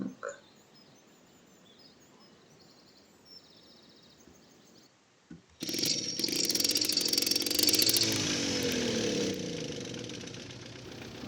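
A tractor engine in Farming Simulator 17 starts up partway through after a quiet stretch, then runs in a loud, steady idle as it warms up, with a knocking mid-pitched rumble.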